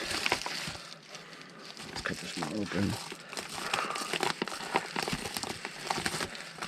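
Plastic screwdriver set packaging is cut and crinkled open, with crackly rustling of the wrapping running through the clip under ongoing close-up talk.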